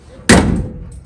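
The door of a 1965 Chevy Nova shuts with one sharp, heavy slam close by, a solid metallic thud that rings briefly and fades within a second.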